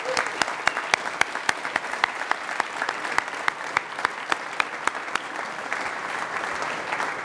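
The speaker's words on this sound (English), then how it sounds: "let's give them a round of applause for their awesome and impressive work" Audience applause at a ceremonial first planting inside the Amazon Spheres greenhouses, a steady wash of clapping running for several seconds with a few sharp individual claps standing out, moderately distant and even throughout.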